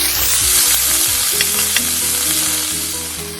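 Onions and peppers fry in a hot pan for Beijing beef, a steady loud sizzle throughout with light stirring scrapes and clinks, no voices.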